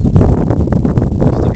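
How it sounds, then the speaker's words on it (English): Steady wind buffeting the microphone, a continuous low rumble with gusty fluctuations throughout. "It's very windy"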